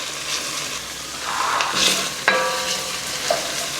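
Garlic frying in a pan for a beef stew, a steady soft sizzle with occasional stirring scrapes and clinks close by.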